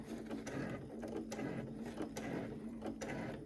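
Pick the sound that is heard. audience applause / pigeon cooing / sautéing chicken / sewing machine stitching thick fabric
sewing machine stitching thick fabric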